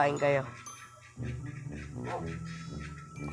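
A dog in the video game Minecraft barks and whimpers in short bursts over a steady electronic music background, with game-like sound effects.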